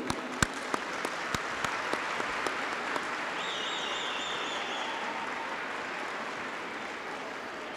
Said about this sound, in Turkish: Ben burada tüm özverileriyle sizlerin huzurunuzda eğitmenlerimizi alkışlamak istiyorum.